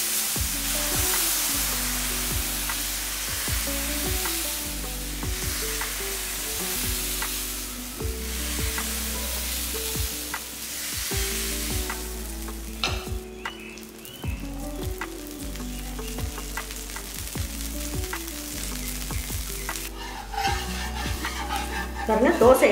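Dosa batter sizzles steadily on a pan over a slow flame, with a continuous fizzing crackle, rhythmic scraping strokes of spreading and a louder hiss near the end.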